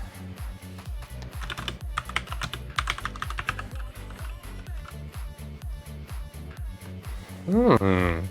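Brisk keystrokes on a computer keyboard, compared against an Element Gaming keyboard, clatter in a steady rhythm close to the mic, with a brief rising tonal sweep near the end.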